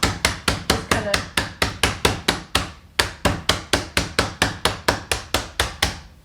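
Something hard is struck repeatedly with a hammer to break it open, a loud, close, steady string of evenly spaced blows with a brief pause midway and no voices.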